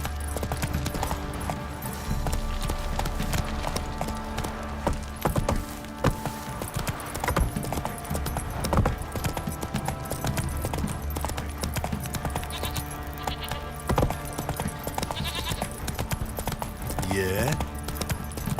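A horse gallops across the open world in The Witcher 3, its rhythmic hoofbeats steady throughout under game music, character dialogue and ambient effects, with a brief whinny near the end.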